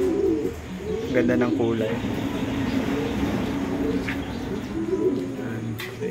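Racing pigeons coo softly in a loft in repeated low, throaty phrases while someone speaks over them. A few faint chirps come through in the background.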